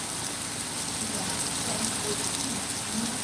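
Moderate rain falling steadily on a wet Chicago street with puddles, a dense continuous hiss of drops close by, with no talk over it.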